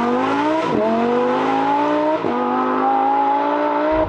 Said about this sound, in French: tu sens que t'es sur un beau V10 là. Putain, qu'est-ce que ça gueule.